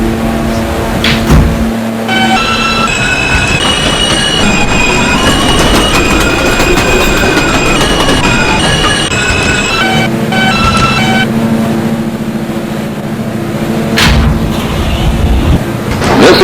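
A New York City subway Q Express train bound for 96th Street–2nd Avenue runs loud and close, with a steady rumble, rising and falling whining motor tones and metallic squeals and clanks.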